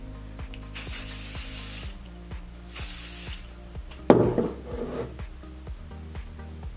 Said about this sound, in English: And I will just go in with some of the Sebastian Professional's Reshaper hairspray.